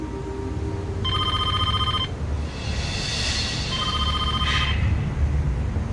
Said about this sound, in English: It's always especially difficult for me to be interrupted in that process by the phone ringing